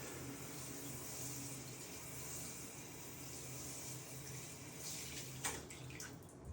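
A shower head sprays water across a floor during apartment washing, rinsing dirty water toward a floor drain; a steady, soft hissing wash with a brief splash and clatter near the end.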